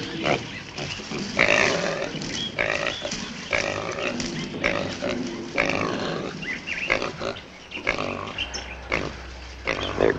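Wild pigs grunt and oink repeatedly outdoors, close and fairly loud, in an uneven chorus of snorts and squeals.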